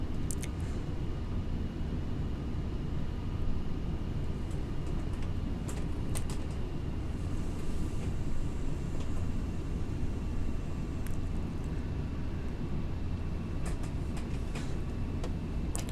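A steady, low engine drone fills a descending airliner on approach in the FSX flight simulator, continuous and even, with a few faint clicks and ticks over it and no talking.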